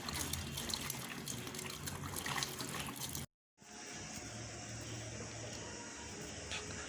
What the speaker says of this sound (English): I'm going to be adding water.